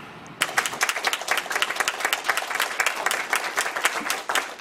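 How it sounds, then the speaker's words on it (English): An audience at a school board meeting bursts into applause after a superintendent vote, with dense, fairly close clapping that starts abruptly and holds steady to the end. "A round of applause, and many rose to their feet"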